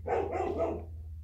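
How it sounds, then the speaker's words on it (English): A dog barks once or twice in quick succession, fairly close, over a low steady hum, then the sound fades away. "Sorry about the dogs barking."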